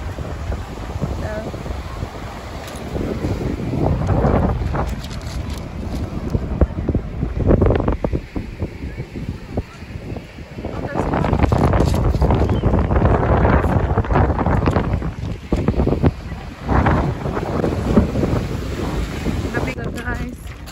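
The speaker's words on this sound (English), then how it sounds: "Windy." Strong wind at a beach buffets the microphone in loud, uneven gusts, with surf faintly underneath and people talking intermittently.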